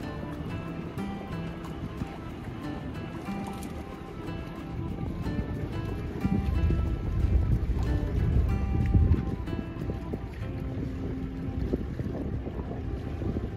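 A sailboat runs slowly downwind, with steady wind rushing across the microphone and water washing along the hull, growing a little louder midway.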